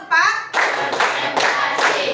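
Children in an Indonesian classroom clap in a counted pattern, a short voice followed by several distinct bursts of group clapping at a steady rhythm, close and fairly loud.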